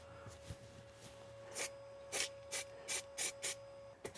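Short hissing bursts of an aerosol can spraying satin black paint onto a metal seat bracket, six quick puffs in a row with brief pauses, close and fairly quiet over a faint steady hum.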